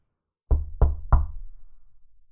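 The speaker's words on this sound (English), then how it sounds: "knocked at the door." Three firm knocks on a wooden door, evenly spaced and loud, each with a short hollow decay, alone in an otherwise quiet room.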